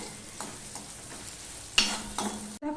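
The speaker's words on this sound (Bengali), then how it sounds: "পেঁয়াজটা লাল লাল হয়ে ভাজা হয়ে গেছে" Onions frying and being stirred in a pan for a home vegetable dish: a quiet, even sizzle with a few spatula scrapes and one sharper clack near the end.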